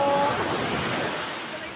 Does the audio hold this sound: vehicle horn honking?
no